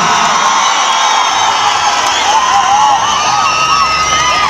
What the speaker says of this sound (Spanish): Si usted quiere que venga, venga el aplauso.